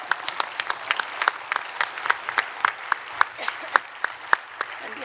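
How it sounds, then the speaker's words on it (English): Scattered, sparse clapping from a conference audience at a physician leadership panel, individual claps distinct and moderately close over about five seconds, thin rather than a full ovation. "give yourself a round of applause"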